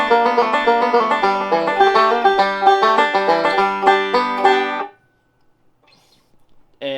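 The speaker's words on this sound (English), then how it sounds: "So it's just a really cool variation that adds a lot of extra exciting kind of pull-offs in." Banjo playing a riff with pull-offs, rapid bright rolling notes for about five seconds, then near silence before a brief note returns at the end, with no talking.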